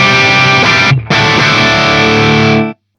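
High-gain electric guitar through a Fryette Deliverance amp and Synergy Syn20IR, a loud sustained distorted chord that cuts out briefly, rings again and stops abruptly.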